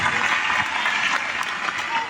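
A crowd applauds and cheers for President Gomo at a community talk in Owendo, a steady wash of clapping and voices that holds at the same level for the whole stretch.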